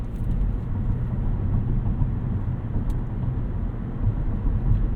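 A 2012 Lincoln MKZ AWD sedan is heard from inside the cabin while driving, with a steady low engine and road rumble and a soft, even tire drone, and no speech.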